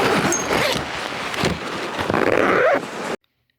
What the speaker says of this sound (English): it's so much easier to zip it up.